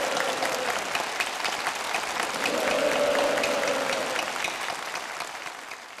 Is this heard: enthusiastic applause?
yes